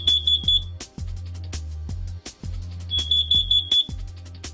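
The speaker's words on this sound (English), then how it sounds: "a sharp alarm noise will be triggered" A shrill, high-pitched carbon monoxide alarm on a boat beeps in rapid bursts of several tones, pausing between groups, over a low rumbling hum.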